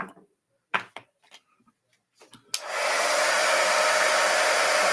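Several soft taps and handling clicks come first, then a heat embossing tool switches on and blows hot air with a loud, steady, close whoosh that runs to the end.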